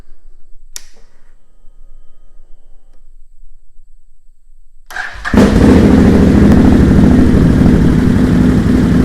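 A personal watercraft engine fitted with an HMF exhaust and tuner stays quiet after a few clicks, then cranks and fires at about five seconds. It settles into a loud, close, rumbling idle.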